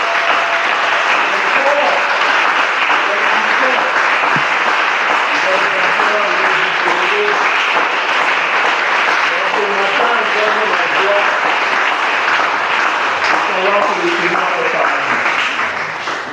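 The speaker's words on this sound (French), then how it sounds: "Est-ce qu'on peut acclamer pour Jésus?" Church congregation applauding and cheering for Jesus, a dense, steady wash of clapping and voices that fills the whole stretch at loud, even level.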